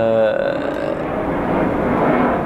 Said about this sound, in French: Il y a un avion. Ça y est, tu vois, le bruit m'insupporte.